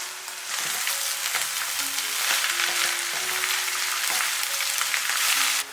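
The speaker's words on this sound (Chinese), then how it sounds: "改调中大火翻炒一下" Olives and dried preserved mustard greens stir-fry over medium-high heat in a wok, giving a loud, steady sizzle with occasional scraping stirs. No voices are heard.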